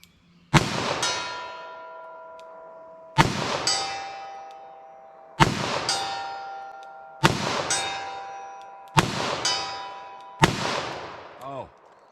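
Revolver bullets strike steel targets at a shooting range, giving six sharp metallic clangs spaced a second or two apart, each ringing on and fading before the next hit.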